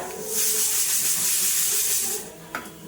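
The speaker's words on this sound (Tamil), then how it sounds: "கருவேப்பிலை நம்ம கழுவி போடுறதுனால அந்த தண்ணி இருக்கிறதுனால அப்படியே தெரிச்சிடும்" Loud, steady hissing sizzle of washed, wet curry leaves spluttering in hot oil, with a brief sharper pop near the end.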